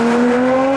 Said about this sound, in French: Allegra Monte Carlo nous emmène à bord de sa RS5 préparée et fait résonner les échappements